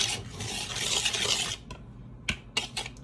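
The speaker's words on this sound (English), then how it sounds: "take the whisk, just whisking it" A whisk rasps quickly around a bowl, stirring salt and baking powder for a cake batter, a close scratchy swirl for about a second and a half, followed by a few light clinks and taps.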